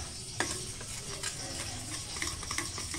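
Suji laddu mixture stirred in a pan, a soft continuous scrape and faint sizzle with a few small clicks of the spoon, close but quiet, no talk.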